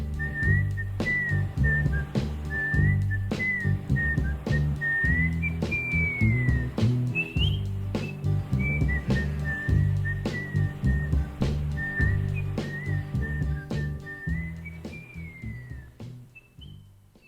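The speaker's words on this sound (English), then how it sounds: "And a lovely fade out from the pleasant whistle section at the end." Whistled melody from the closing section of a soul song, a clear tune carried over strummed guitar and drums, steady throughout and fading out at the end.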